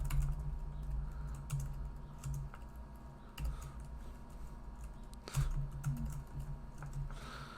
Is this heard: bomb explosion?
no